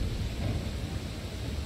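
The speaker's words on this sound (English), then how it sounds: "It's raining." Rain and thunder roar in the video game Elden Ring as a steady, dense wash of rainfall with a deep low rumble that stays loud and even, with no voices.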